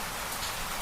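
Rain falls steadily and densely, a close, even patter on surfaces with no voices and no pauses.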